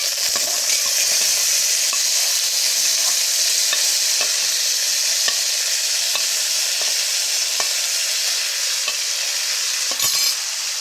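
Mango pieces frying in hot oil with dried chillies and panch phoron for a sour mango dish, a steady close sizzle with scattered pops and light stirring clicks throughout.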